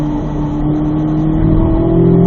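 A car engine on a race track pulls hard down a straightaway as a loud, steady, close drone that climbs gradually in pitch.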